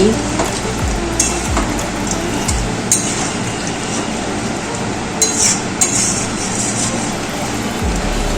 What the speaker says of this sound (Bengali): এবার দিয়ে দিচ্ছি একটু জল। নেড়ে চেড়ে নিচ্ছি।